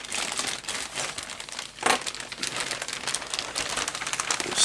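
Close crinkling and rustling of a large plastic bag holding Airfix B-17 Flying Fortress model kit parts, irregular crackly handling bursts with one sharper crumple midway.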